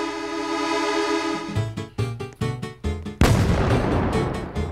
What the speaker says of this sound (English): They went into the cannon.